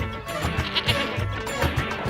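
A goat bleats in a quick run of wavering, nasal cries close by, repeated several times over a couple of seconds with no talking.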